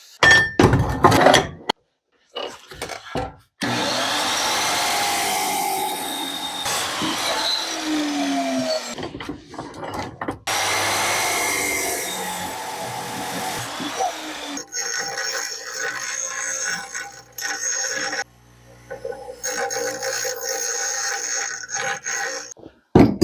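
A saw or cutter works through new metal tubing for a wheelbarrow go-kart build, a loud continuous grinding, scraping cut with short breaks and metallic clinks between passes, shifting to a harsher, higher ringing whine in the second half.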